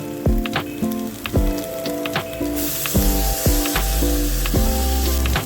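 Tomatoes go into frying onions in a pan for a Konkan bangda fish dish, giving a loud sizzle that brightens partway through, mixed with rattling clatter and tonal clinks up close.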